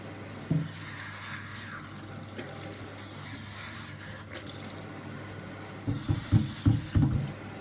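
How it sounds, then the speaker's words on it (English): Running water rinses shampoo from a non-surgical hair replacement system, a steady low wash of flow with a few louder splashing bursts toward the end, no voices. "So now I'm just going to rinse that off."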